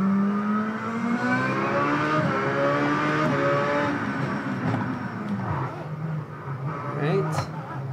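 A race car engine in the iRacing simulator at Sonoma Raceway drones and revs steadily, its pitch climbing and falling through gear changes, with someone talking over it throughout.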